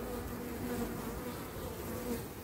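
Honeybees swarm and buzz steadily around an open hive while a beekeeper inspects it, a dense, close, continuous hum with no voices.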